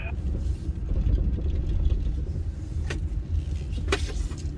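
An off-road vehicle drives and drifts through a sandy stretch of the Oriflamme trail, giving a steady, close, low engine and tire rumble throughout, broken by a couple of brief sharp clicks or knocks near the end, with no talking.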